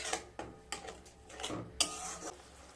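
A spoon scrapes and knocks against a pot as tomato and date chutney with sugar is mixed, a few separate clinks and scrapes at an uneven pace, fairly quiet, with no talking.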